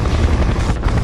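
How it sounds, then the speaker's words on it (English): A helicopter in the video game Splinter Cell: Conviction gives a loud, close, continuous rotor drone with a dense low rumble, heard alone throughout. "I'm taking fire from that chopper."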